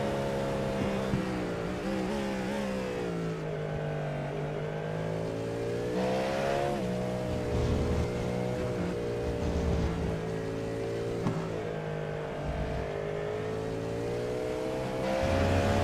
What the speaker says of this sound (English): Porsche whining on the straight is some amazing sound stuff